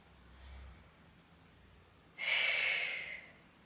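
A single forceful exhale during a Pilates arms and abs exercise, a breathy whoosh lasting about a second near the mic, preceded by a faint softer breath in a quiet room.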